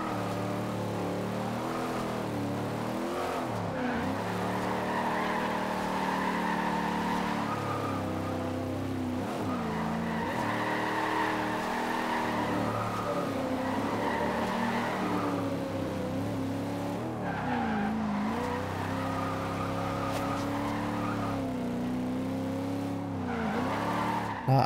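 Tires of a race car in Forza Horizon 2 being warmed up, a steady engine drone with wavering squeals and skids rising and falling throughout, heard alone without talk.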